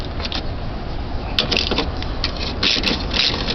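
Tools working on the headlight bolts of a Hyundai Elantra: close, loud mechanical clicks and scraping over a constant noisy background, with a few sharp knocks.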